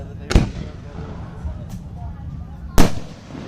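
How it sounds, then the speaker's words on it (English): Two loud fireworks blasts at a Kansas show, separated by a faint distant pop, with people talking softly underneath. "What is this? 8-hour fireworks?"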